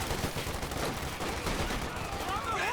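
A .50 cal machine gun firing in the Company of Heroes 2 strategy game, dense continuous rattling gunfire mixed into battle noise, steady and fairly loud, with a voice talking over it.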